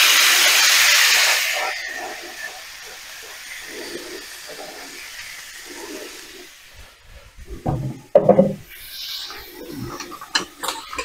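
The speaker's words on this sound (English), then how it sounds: "I'm going to put the bacon on now." Bacon hits a frying pan on medium heat: a loud sizzling hiss bursts up and slowly settles into a quieter, steady crackle, with a few clanks near the end.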